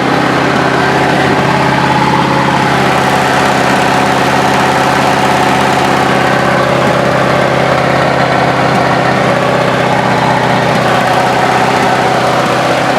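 Lowrider car engine idling with its muffler removed, a steady loud rumble with constant vibration throughout, close up and alone with no talk.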